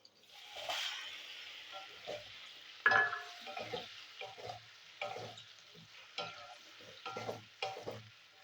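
Fried potatoes with tomatoes just added are stirred in a pan, giving a steady frying sizzle broken by repeated scraping stir strokes, up close and with no talk.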